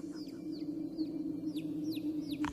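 Chicken clucking in a radio horror drama, a series of short rising clucks repeating steadily over a low humming backdrop, fairly faint and without speech.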